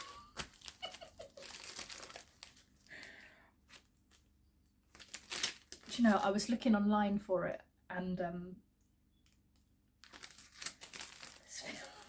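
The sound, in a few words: crinkling plastic-like craft material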